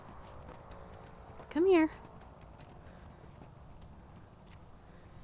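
A trained horse walks over when called, its hooves clip-clopping softly on the ground in a steady rhythm while someone speaks to it throughout, with one brief loud tonal call cutting in near the start.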